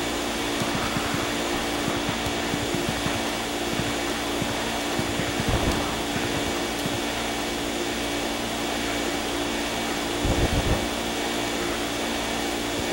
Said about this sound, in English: so we're gonna keep vacuuming this up